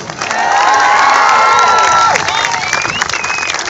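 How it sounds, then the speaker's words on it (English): A crowd gives a big cheer for Richard, loud whoops and shouted cheers over steady clapping, peaking early and then easing into continued applause with a few high calls. "Right, a big cheer for Richard."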